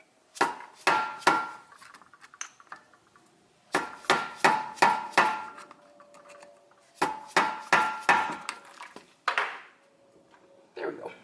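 Hammer blows striking a Volkswagen brake rotor to loosen it, sharp metallic bursts of three to five quick hits separated by short pauses, close and loud.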